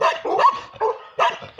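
A dog barks loudly and close, three or four rough barks in quick succession with short gaps, alone without talk.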